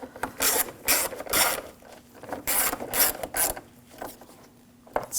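Screws are snugged down on the air filter housing of a 2007-2013 BMW 328i with a 3.0L inline-six, giving repeated short ratcheting and rubbing bursts in an uneven rhythm, close by and with no voices.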